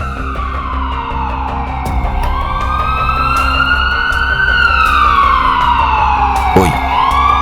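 An ambulance siren wails loud and close, its pitch sweeping up and down over a rumbling vehicle engine, with a sharp swoop near the end.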